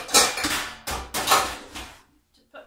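A large metal pan for hot process soap making is handled in a kitchen: a few loud clanks and scraping knocks in quick succession, close by, ending in two faint taps.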